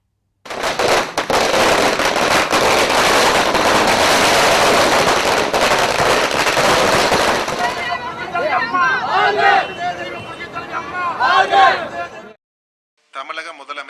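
Firecrackers bursting in a street celebration in Coimbatore: a dense, continuous crackle of rapid pops for about seven seconds, then scattered bangs under crowd chatter and voices that fade out near the end.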